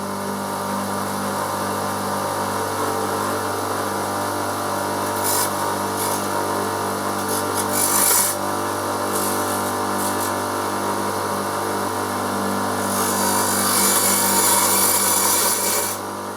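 A grinding wheel being dressed with a diamond dresser: a continuous high machine whine with a steady abrasive hiss that swells in gritty bursts as the diamond bites, no talking.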